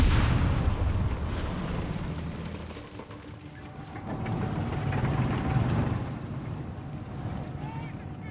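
Shell bursts in Company of Heroes 3 throw shrapnel amid a dense, rumbling battlefield din of low booms and debris, loud and sustained with a brief lull midway.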